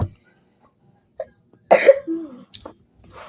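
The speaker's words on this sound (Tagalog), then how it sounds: "Ubo ako ng ubo." A few sharp coughs burst out close by in a quiet room, one brief and another longer with a throaty tail, spaced by short silences.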